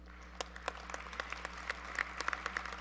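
An audience at a college football trophy presentation gives a modest round of applause: scattered, uneven hand claps, fairly quiet, over a steady low hum in the hall.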